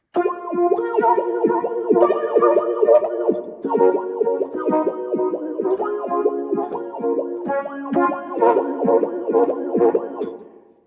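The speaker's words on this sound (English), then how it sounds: "Example 2, I used the sawtooth synthesizer sound," A Casio CTK-691 keyboard plays a tweaked sawtooth synthesizer patch in a steady melodic phrase, bright buzzy chords with echo and reverb-like effects sounding loud and continuous for about ten seconds, with no talking.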